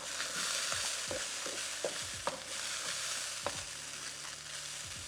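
Beef sizzling steadily in a hot pan for Mongolian beef, with a utensil scraping and stirring in irregular clacks over the continuous fry, close up and without talk.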